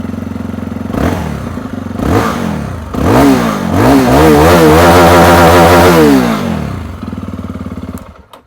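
A motorcycle exhaust idles with a deep burble, then is blipped in three sharp revs before climbing into a long, loud sustained rev and dropping back to idle.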